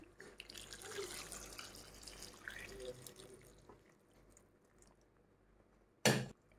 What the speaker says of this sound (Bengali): আমি বেশ অনেকটা মতন গরম জল এই মাংসতে দিয়ে দিচ্ছি।